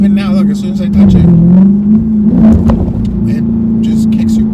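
A car fitted with a Pedal Commander throttle controller revs steadily from inside the cabin, a droning engine tone rising and falling under ongoing conversation.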